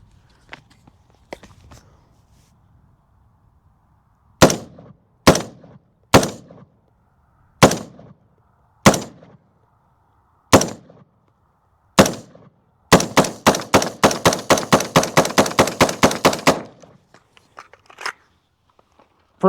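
Zion I-15 AR-15 rifle fired downrange outdoors, sharp loud single shots spaced a second or two apart, then a fast string of rapid shots, with quiet gaps between and faint handling noise.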